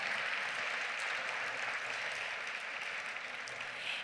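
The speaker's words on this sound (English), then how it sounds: "So let's give all of our sponsors a big round of applause." A conference audience at a community gathering claps for the event sponsors, an even, sustained wash of applause from many hands with no speech.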